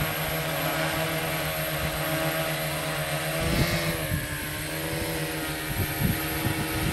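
A multirotor drone running a Xaircraft SuperX flight controller hovers with a steady propeller whine and drone, drifting slightly in pitch as it climbs, with a few soft low thumps near the end and no talk.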